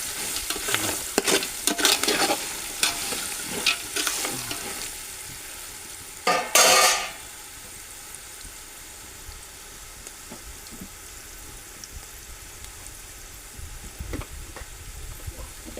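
Peanuts and coconut frying in a pan for poha chivda, stirred in short bursts of scraping and sizzle, with a loud clatter around the middle, then a quieter steady sizzle.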